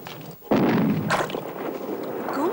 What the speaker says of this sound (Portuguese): Como se ouve aqui dentro o eco dos canhões?